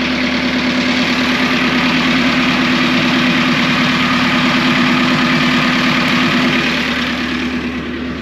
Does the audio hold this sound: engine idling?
yes